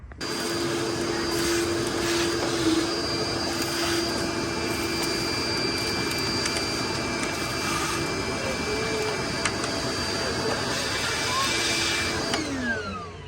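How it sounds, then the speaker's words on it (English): A vacuum runs continuously at close range, sucking up rotted debris from an engine that sat for over 30 years, a loud, even whining roar with a steady high tone that stops near the end. "We'll vacuum as much up as we can"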